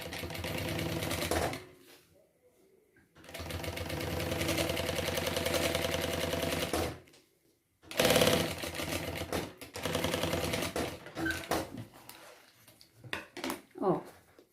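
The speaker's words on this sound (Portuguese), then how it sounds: "puxo a parte da frente e vou fazer um pesponto aqui." Sewing machine running steady topstitching runs along the front of a travel bag with lining, stitch length 3.5, in bursts of a few seconds separated by pauses, close and fairly loud, with a voice talking between runs.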